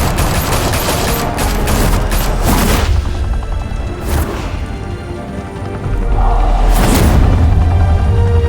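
Heavy gunfire in Batman: The Telltale Series, a loud continuous barrage of shots and booms with several sharp blasts standing out over a rumbling low end.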